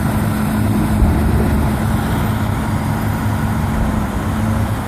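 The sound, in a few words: bulldozer and dump truck working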